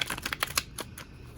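Tarot cards are shuffled by hand at close range, giving a quick run of crisp, papery flicks and taps that thin out toward the end, with no talking.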